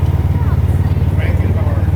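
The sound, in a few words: Land Rover Defender engine given a little gas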